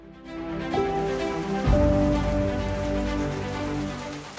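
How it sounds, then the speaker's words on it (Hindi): Heavy rain pours outside the Sateri Mahadev temple, a dense, steady wash of drumming drops that holds strong throughout, with faint tonal ringing beneath and no one speaking. "बाहर बहुत ज़ोर से बारिश शुरू है"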